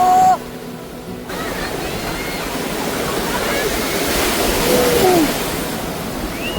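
Steady wind and surf roar on the sea beach at Puri under a cloudy sky, a broad continuous wash that fills the scene, with a few faint high bird-like chirps drifting over it.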